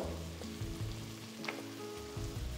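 Whole raw spices such as mace, black pepper, marathi moggu, stone flower, cardamom, cinnamon and star anise frying in a pot for Ravulapalem kunda biryani, a steady low sizzle with faint crackles, alone and close.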